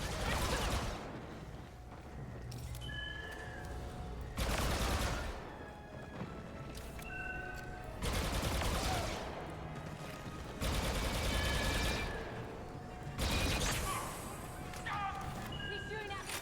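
Blaster fire in the Star Wars Battlefront II shooter, loud bursts of repeated shots arriving in waves about every few seconds, with game chatter and effects between volleys.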